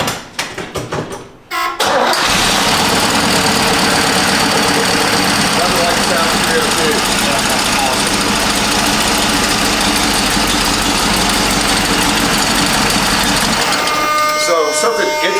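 A classic car's engine runs steadily and loudly at idle after a short burst of noise at the start, a dense continuous rumble with a faint knocking vibration, fading out near the end.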